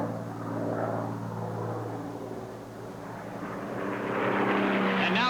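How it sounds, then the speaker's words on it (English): Propeller racing planes at the 1979 Reno Air Races roar past in the distance at over 400 mph, a droning engine hum swelling and fading as the aircraft fly by. "Now as they fly by, and Crocker is on the verge of lapping Hami"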